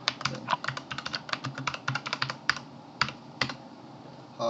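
Rapid, uneven keystrokes on a computer keyboard while searching to download Ubuntu in a web browser, clicking close and clear with brief pauses between bursts and no talking.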